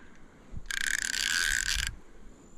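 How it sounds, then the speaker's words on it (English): A fishing reel's click-and-drag pays out line to a hooked barramundi: one loud, close, rapid buzzing ratchet run lasting just over a second, with no talk over it. "You can tell now why I love those click and drags."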